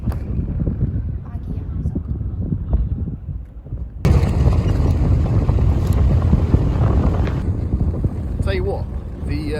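Wind buffets the microphone in the Wadi Rum desert, a dense continuous roar that grows harsher and louder midway and stays rough to the end, with a voice partly heard beneath it.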